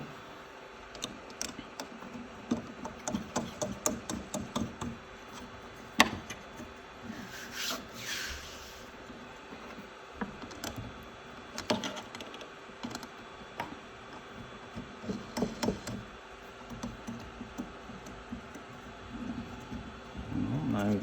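Parts being screwed onto the bed of an Ender 3 Pro 3D printer, with irregular clusters of small clicks, scrapes and rubbing taps, close and intermittent over quiet room tone.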